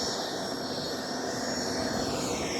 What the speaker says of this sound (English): You got a jet flying out right now.